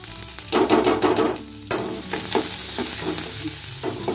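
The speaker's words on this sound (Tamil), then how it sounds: "நம்ம வெங்காயத்தை வதக்கணும்னா" Chopped onions sautéing in a pan for a rasam-and-kootu lunch, a steady close sizzle with bursts of scraping stirs early on, then continuous frying hiss, no voices.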